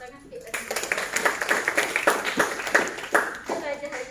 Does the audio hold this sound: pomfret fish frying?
no